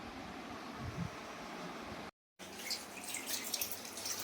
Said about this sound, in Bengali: ইলিশ মাছ তো হালকা করে ধুতে হবে